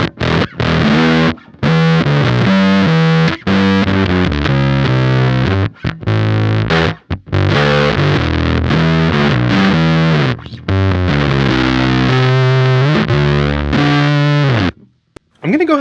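A bass guitar plays through a Cat Box Customs Bean Machine harmonic percolator fuzz pedal with the texture toggle down. It gives a thick, heavily distorted, buzzy line of loud sustained notes broken by short pauses, ending in a brief silence.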